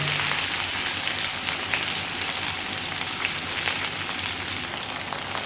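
Okra sizzles steadily in a hot pan with oil, a dense continuous frying crackle with no talk over it.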